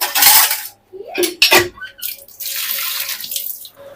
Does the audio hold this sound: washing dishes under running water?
yes